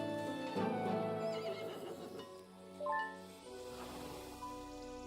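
Horses neigh and whinny in the fantasy strategy game Heroes of Might and Magic: Olden Era, with several drawn-out calls over soft hoof clip-clop, fairly close and clear with no talk.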